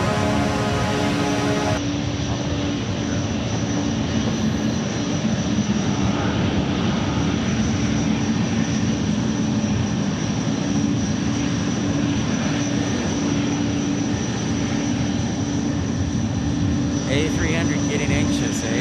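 A Boeing 777 at Memphis International Airport sends out a loud, steady roar of aircraft engine that persists without a break, with people talking faintly beneath it.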